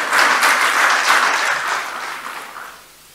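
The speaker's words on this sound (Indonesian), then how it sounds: "Tepuk tangan untuk beliau." An audience applauds the President of Indonesia, Joko Widodo, with dense, loud clapping from a large crowd that holds steady and then gradually tapers off toward the end.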